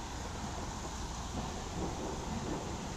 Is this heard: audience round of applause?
no